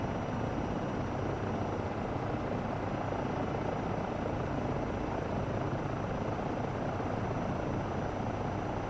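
Eurocopter EC135 helicopter engine in Microsoft Flight Simulator 2024 spooling up, a steady, dense rotor and turbine roar filling the whole stretch at constant loudness with no voices.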